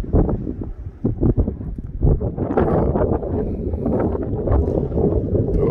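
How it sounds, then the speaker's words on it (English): Wind buffets the microphone at night in the Goldfield cemetery, a loud, rough, low rumble with gusty swells throughout and no voices. "It's kind of windy. Probably having a hard time hearing me."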